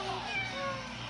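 A cat meows briefly and close by in a home, with a family voice talking over it.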